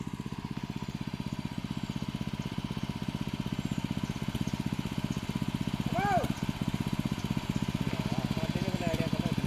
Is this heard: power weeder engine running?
yes